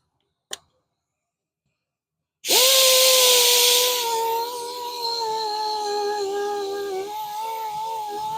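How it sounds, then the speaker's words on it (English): An electric grinder on a Tesla wheel gives a brief click, then spins up after a pause into a loud, steady whine for several seconds as it grinds out curb rash. "we'll start with the grinder, grind out the curb rash"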